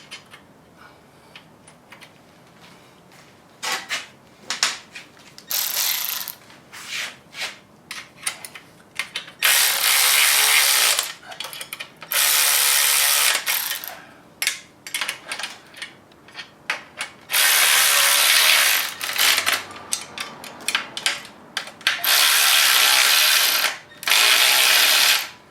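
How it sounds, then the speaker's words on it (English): Nuts and bolts are tightened on a Tesla motor swap with a ratchet, giving rapid clicking bursts that alternate with longer, loud, steady runs of a power ratchet, all close up with no talking. "I don't know how boring this is watching somebody put nuts and bolts on"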